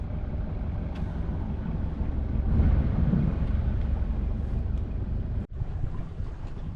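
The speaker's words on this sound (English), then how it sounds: "First time engine off sailing as well." A sailboat under sail with the engine off, making slow headway near Portsmouth on a sunny day; steady wind rush and water wash fill the clip, with a brief dropout near the end and no talking.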